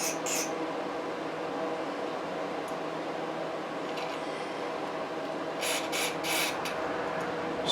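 Carburetor cleaner sprayed onto the emulsion tube of a Toro 3521 snow blower carburetor, short hissing spritzes, one at the start and a cluster of several near the end, over a steady low background hum.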